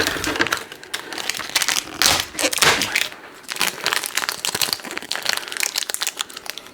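Plastic insulation film on the heavy steel plate of a Logitech G413 keyboard crinkles and crackles in close, irregular bursts, with sharp crunchy snaps coming and going for several seconds.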